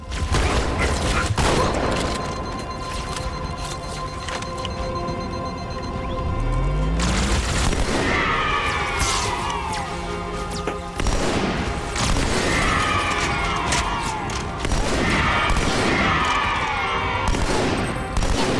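Heavy booming gunfire and repeated blasts in the Halo 2 video game, mixed with mechanical clanks and a rising whoosh, with bursts returning in clusters throughout.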